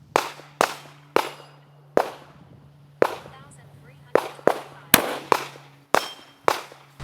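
Sharp, loud pistol shots from a Colt Delta Elite 10mm fire at irregular intervals, about a dozen cracks with short decaying echoes, some in quick pairs, over a low background hum.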